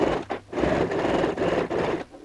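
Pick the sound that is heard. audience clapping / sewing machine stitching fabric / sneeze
sewing machine stitching fabric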